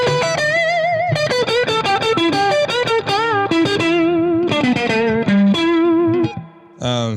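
Electric guitar played through distortion and effects, with bent strings sliding pitch upward across a fast, loud run of sustained, wavering notes that stops near the end.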